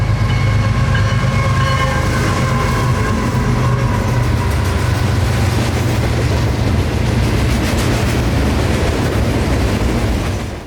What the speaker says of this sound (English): CSX number 911 and 1776 would be the power on today's Q452.